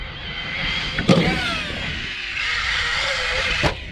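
Tekno ET48 2.0 RC truck launching off a ramp outdoors: a steady high electric motor whine rising and falling, with a sharp thud near the start and another impact near the end as it lands.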